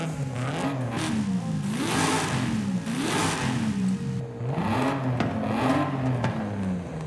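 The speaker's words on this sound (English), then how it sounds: "the straight 6 is a really nice engine" A Toyota 2JZ straight-six revs in Forza Horizon 5. The engine note climbs and falls in repeated sweeping pulls, loud and steady with no talking over it.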